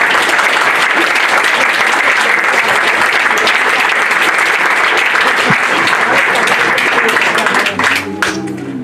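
A church congregation applauds during a Sunday service, with dense, loud, steady clapping from many hands filling the space throughout and thinning slightly at the very end.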